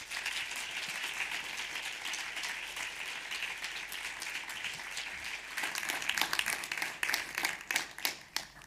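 Steady applause from an audience at a recorded presentation event, a dense continuous patter of many hands that swells with sharper, louder claps toward the end.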